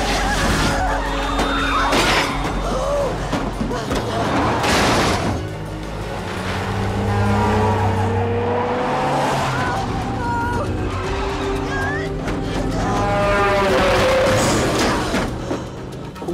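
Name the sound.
speeding van in a film stunt sequence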